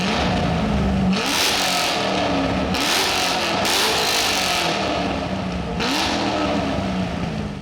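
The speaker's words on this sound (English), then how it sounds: "LS7 revving out." A Corvette C6 Z06's LS7 V8 engine revs hard several times, each surge rising to a loud roar and falling back, recorded up close with no talking.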